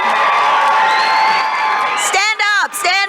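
A crowd cheers and whoops loudly at a Chicago MLK Jr. oratory competition, with shouts and likely clapping mixed into a dense roar that carries on throughout.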